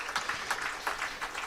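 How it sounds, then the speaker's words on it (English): Crowd at a Worcestershire Rapids versus Leicestershire Foxes cricket match applauding Hayden Walsh as he leaves the field, a short burst of light, scattered clapping from a distance. "Hayden Walsh gets applause if you wish"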